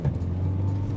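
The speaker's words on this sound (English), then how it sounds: "If you decide to just drop a gear down," A Mahindra Scorpio turbo diesel pulls after a downshift, giving a steady low engine drone heard from inside the vehicle for a brief moment.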